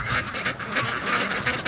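Ducks from a flock quack repeatedly near a frozen lake in winter, several loud close quacks in quick succession.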